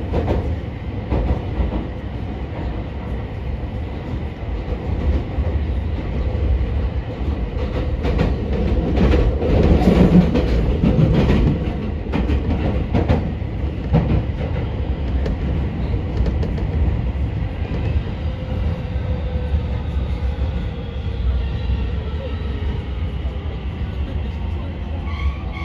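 A train runs on rails as it pulls into Okayama Station, a steady loud rumble and rolling noise with occasional clicks and squeals, no talk over it.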